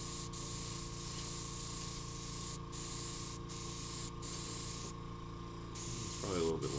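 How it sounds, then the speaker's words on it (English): A spray paint can hisses in a long continuous spray from about a fist length away, with a few brief pauses, close by, with a faint voice near the end. "Okay, I'll spray from over here."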